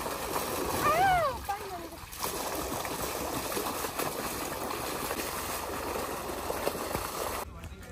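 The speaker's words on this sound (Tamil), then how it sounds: "தண்ணி விழுற சவுண்டை கேட்ட உடனே" Water gushes from a farm pump set at a farm house, a continuous rushing splash that runs almost the whole time, with a brief chirp early on and faint voices mixed underneath.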